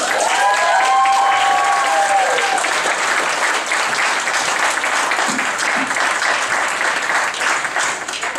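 At an awards ceremony, a crowd applauds loudly as a young man is called to the stage. Dense, sustained clapping runs throughout, with a few cheers and whoops rising early on.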